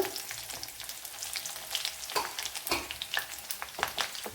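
A small piece of ginger and two green chilies sizzle steadily in about one and a half tablespoons of hot coconut oil, with crackly pops and occasional stirring scrapes throughout, close and with no talking.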